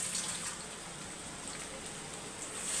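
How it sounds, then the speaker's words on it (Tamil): Water poured from a glass into a pot of mashed potato curry, a steady close splashing pour with a bright hiss, continuous and even throughout with no talking. "ஒரு கிளாஸ் தண்ணி ஊற்றிக்கலாம்."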